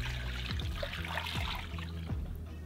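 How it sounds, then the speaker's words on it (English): About four cups of water poured into a cast iron pot holding chicken thighs, a continuous splashing trickle with gurgling bursts as the liquid fills the pot, close and steady with no talking. "Then I'm coming around and add about 4 cups of water."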